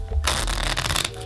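A deck of playing cards is riffled in a false riffle shuffle, a close, crisp fluttering burr lasting about a second as the two packets appear to interleave, heard alone.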